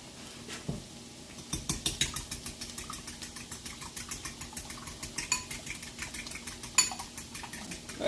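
A fork clinks rapidly against a bowl or pan while breakfast burrito filling is mixed, a brisk, steady metallic tapping close up that continues throughout, with a few louder knocks.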